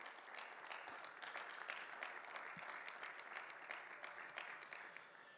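Congregation applauding during a Spanish-language Bible class on Daniel and Revelation, a fairly faint, steady wash of many hands clapping with no talk over it.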